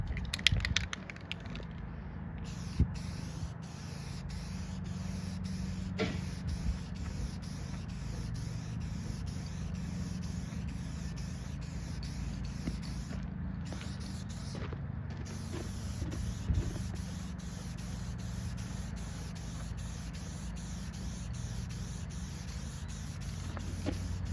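An aerosol can sprays clear coat onto an arcade control panel for a Paperboy cabinet restoration, a steady close hiss running almost continuously with a few brief pauses and no talk.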